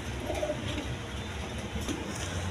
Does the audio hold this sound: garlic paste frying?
no